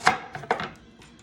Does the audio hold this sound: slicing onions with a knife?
yes